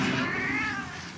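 Cat meowing in the video game Murdered: Soul Suspect, one drawn-out plaintive meow that fades slightly, heard alone and fairly quiet.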